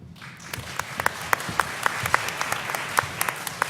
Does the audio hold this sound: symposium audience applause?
yes